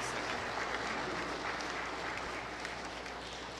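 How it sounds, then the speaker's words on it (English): A church congregation applauds high school 2020 graduates, a continuous wash of many hands clapping, moderately distant and fading slightly toward the end. "give a round of applause for your high school 2020 graduates"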